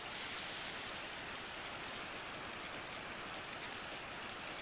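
Rain falling in Final Fantasy XI, inside a volcano area, as a steady, dense hiss of downpour that holds at an even, moderate level without pause and with no voices.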